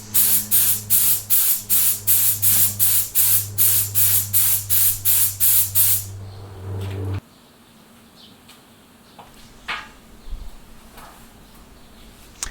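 Spray gun applying Lechler 2K epoxy primer to shock absorber parts in a rapid series of short, even bursts, about a dozen in six seconds, each a loud hiss, followed by quieter handling noises.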